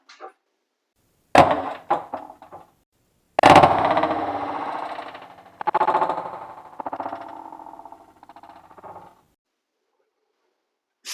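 A Umarex HDR 68 CO2 revolver rated at 16 joules fires several sharp close shots in a short sequence, each followed by a ringing, decaying tail, with silence between.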